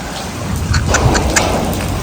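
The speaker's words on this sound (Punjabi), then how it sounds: "ਪਾਣੀ ਮੀਂਹ ਤਾਂ ਚੰਗਾ ਪੈ ਲਿਆ ਭਾਈ" Steady heavy rain hisses and patters close by, a dense continuous wash with faint drips standing out.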